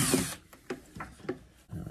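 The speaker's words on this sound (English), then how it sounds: "I'm going to put my little control gauge right here and I just need to drill a hole" Power drill boring a hole on a boat while a diesel forced-air heater control gauge is being fitted, heard as a loud opening burst followed by several short, separate bursts of drilling.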